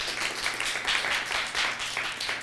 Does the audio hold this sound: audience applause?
yes